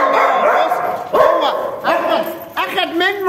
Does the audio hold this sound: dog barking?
yes